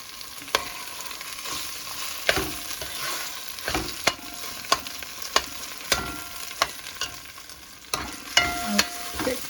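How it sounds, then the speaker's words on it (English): Steady sizzling of beans and rice frying in a pan, with repeated sharp scrapes and clinks of a utensil stirring, no voices. "frying nice."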